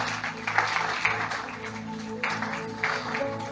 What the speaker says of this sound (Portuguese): Dê mais uma salva de palmas ao Senhor Jesus